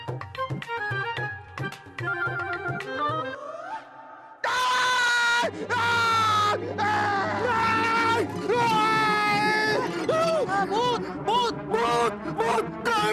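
A woman screams in a Hindi comedy drama scene, a long, loud, wavering high-pitched cry after some earlier musical sounds, with other voices overlapping.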